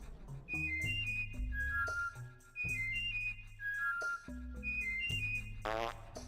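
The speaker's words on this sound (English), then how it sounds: "3 high whistles, 2 low whistles" Whistled password phrases from Oddworld: Abe's Oddysee, clear high and low tonal whistles in short melodic sequences, repeated over a steady low game music drone, ending in a brief breathy burst.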